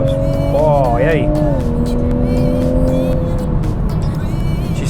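A Toyota Supra with twin-scroll turbos accelerating hard on kickdown, the engine note sweeping up and shifting under steady road and cabin noise while a voice talks over it.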